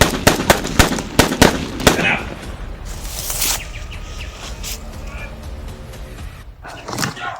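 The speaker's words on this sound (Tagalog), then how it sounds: "May nagpapalitan ng putok." Rapid bursts of video game gunfire crack in a tight cluster at the start, then a sustained noisy rumble of battle continues, with shouting voices over the top.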